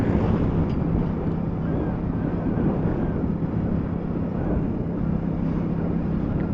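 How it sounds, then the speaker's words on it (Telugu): Light wind buffets an outdoor microphone on a roadside trip near Avapadu toward Rajahmundry, a steady low rumble of gusty noise filling the whole stretch without pause. "ఇప్పుడు లైట్గానే గాలి వస్తుంది."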